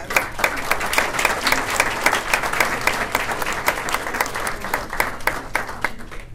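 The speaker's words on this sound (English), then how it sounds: "please come forward and we'll give you all a round of applause." Steady round of applause from a school awards ceremony audience honoring students, dense clapping sustained throughout at moderate loudness with no talking over it.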